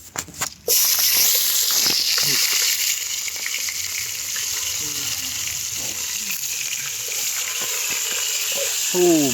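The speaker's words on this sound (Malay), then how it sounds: "Oh, masak nugget. Goreng nugget." Chicken nuggets fry in a pan at a camp cooking spot, giving a steady close sizzle throughout, with brief clinks and stirring sounds and occasional voices nearby.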